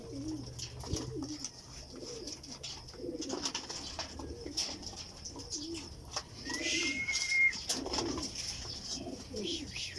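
Racing pigeons coo in soft, repeated low burbles at close range after flying home from training, with a few chirps and light shuffling and faint voices in the background.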